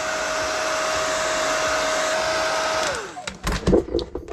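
Heat gun warming vinyl covering stickers on an RC car body, a steady loud blowing whine that winds down after about three seconds, followed by close handling rustles and knocks.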